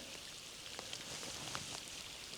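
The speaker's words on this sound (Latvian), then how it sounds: "Sākās lietus." Rain begins to fall outdoors in spring, giving a soft, steady patter of drops with a few brighter taps, quiet and close, and no voices.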